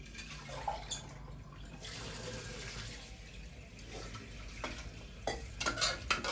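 Water poured into a hot pan while cooking mixed dal at home sets off a steady, loud sizzle and hiss that runs the whole time with small surges, and no one speaks.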